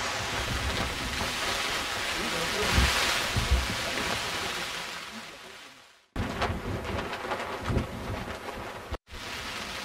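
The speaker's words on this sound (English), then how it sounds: "All last night, raining, thunder, wind, howling" Heavy rain roars steadily with low rumbling gusts during a thunderstorm near Mount Nyiragongo volcano in Congo, broken by two abrupt cuts, the downpour loud and dense throughout.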